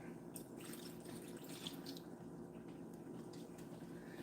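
Water poured steadily into a cooking pot in a home kitchen, a soft continuous trickling and splashing that stays fairly quiet and even throughout, with no talking.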